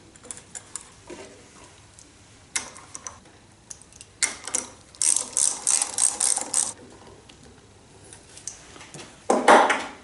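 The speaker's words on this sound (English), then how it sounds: "I wanted to be able to use a ratchet on it to snug up or loosen up this access panel" A ratchet tightens bolts on a lever shock access panel of a 1949 Studebaker 2R5 truck, giving close, sharp clicking bursts in irregular spurts with short pauses, loudest toward the end.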